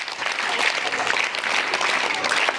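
A school audience at a public speech gives loud, steady applause. Many hands clap densely together without pause for the whole stretch.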